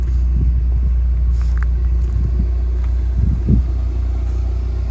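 A tuned Mazda MX5 with a carbon boot and wide arch kit idles with a deep, steady engine and exhaust rumble, close by, with a few small bumps and knocks and no talk.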